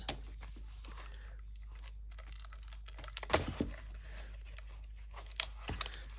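Sealed wallpaper border packaging is sliced open, giving a few soft scratchy tearing and crinkling sounds over a steady low hum, with one sharper rip near the middle.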